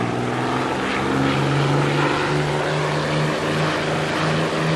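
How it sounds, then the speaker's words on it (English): A Spitfire's propeller engine drones steadily at full throttle during takeoff in a flight video game, a loud continuous engine hum with a strong low tone holding throughout. "let's pop the throttle to the max and just take off"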